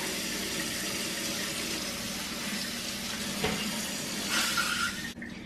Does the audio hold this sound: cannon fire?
no